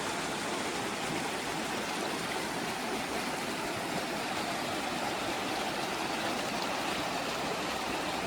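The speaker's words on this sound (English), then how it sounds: "Look at this river, man." A wilderness river rushes steadily and loudly, a continuous broadband wash of flowing water with no break across the whole stretch.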